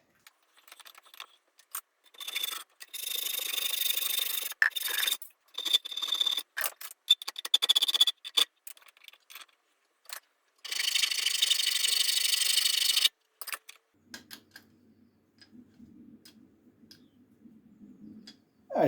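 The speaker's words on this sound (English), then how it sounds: "We'll have a go at putting that in the lathe and see if it machines up." A lathe cuts a cast aluminium hub adaptor for a Ford Escort MK1 in irregular, close bursts of bright scraping and chattering, with short pauses between passes and a low, quiet hum once cutting stops.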